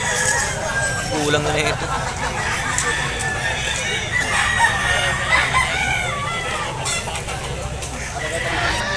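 Roosters crow repeatedly over a busy San Jose del Monte animal market in Bulacan, with bullstags among the birds, clucking and a seller's voice talking close by amid crowd babble.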